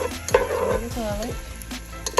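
Garlic and onions frying in a pan, a steady sizzle with scraping stirs and clinks of a utensil against the pan, close and fairly loud.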